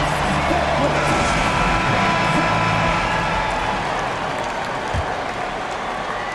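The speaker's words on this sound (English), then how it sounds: "Please give me a round of applause for your next." A basketball arena crowd in NBA 2K23 applauds and roars as a steady, dense wash of noise that eases slightly toward the end, with a voice faintly underneath.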